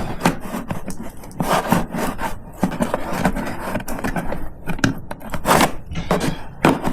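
Loosening a wing nut on the air filter cage of a Yamaha YZ450 dirt bike: close, continuous rough scraping and rubbing of metal on metal, in uneven bursts with brief pauses.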